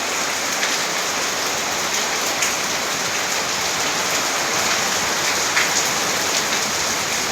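Heavy rain pours down steadily in a dense, even hiss across the whole stretch, with scattered louder drops and no voices.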